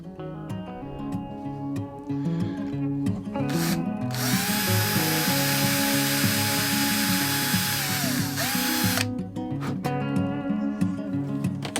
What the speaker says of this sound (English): I can align these two fairly easy and drill the next hole.